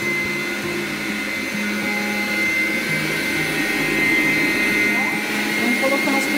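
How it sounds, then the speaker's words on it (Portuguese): An electric stand mixer whirs steadily as it beats condensed milk with margarine into a cream, a loud, close motor drone with a rising pitch while someone talks over it. "Uma lata de leite condensado misturado com a margarina, que vai bater na batedeira até ficar um creminho."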